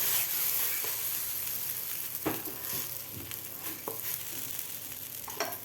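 Soft continuous sizzling of cucumber thalipeeth batter spread on a hot pan, with occasional light scraping and tapping sounds.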